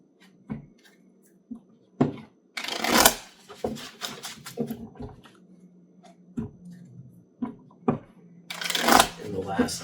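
Tarot cards being shuffled by hand in bursts of riffling and sliding, close and crisp, with quiet pauses between them and someone speaking softly in between.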